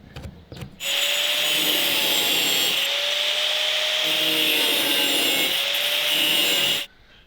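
A saw cuts a face out of a piece of wood in a shed. The rasping is close and continuous for about six seconds, then stops abruptly.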